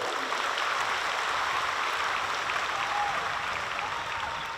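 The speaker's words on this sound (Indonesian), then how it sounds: "tepuk tangan untuk kita semua" An audience at a Universitas Brawijaya student event breaks into steady, dense applause, a continuous wash of clapping that holds at an even level throughout with no talk over it.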